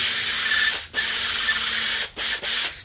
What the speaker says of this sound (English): I'm just going to sand it down a little bit